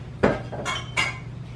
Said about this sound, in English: next thing we do is we spoon this into our cake pans